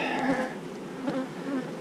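A colony of Georgia stock honeybees buzzes close by in an open hive, a steady droning hum with several individual bees swelling louder as they pass near.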